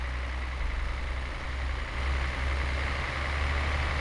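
A lorry engine in a truck-driving simulator game with the Promods map mod drones steadily and close, a deep, constant rumble with a slight swell as the truck cruises.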